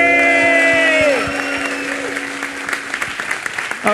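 Audience applause at an academic information theory workshop session, fading in as sung music and tones end, then a steady, fairly loud patter of clapping that thins out toward the end.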